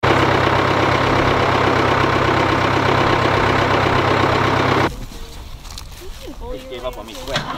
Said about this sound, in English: Now we're getting ready to get on the tractor.